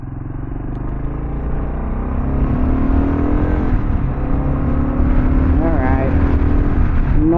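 Kawasaki KLR650 dual-sport motorcycle on Shinko 244 tires, test-ridden on a back road: a steady, loud single-cylinder engine drone with strong wind rush that rises slightly as the bike picks up speed, and a voice speaking briefly over it.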